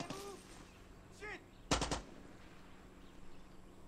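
In Far Cry 6, a short, loud automatic weapon burst rings out after brief chirping sounds, then fades back into quiet game ambience.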